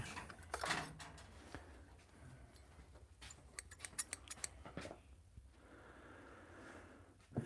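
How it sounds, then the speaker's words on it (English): Quiet handling of scissors with a few sharp metallic snips and clicks, plus soft breathing and rustling nearby. "I need some scissors"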